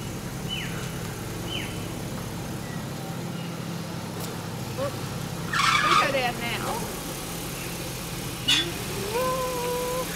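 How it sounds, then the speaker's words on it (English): Cars pass along a road at moderate distance, engines rising and fading with a brief tire squeal, beneath calm talking and background ambience. "Cars are scary."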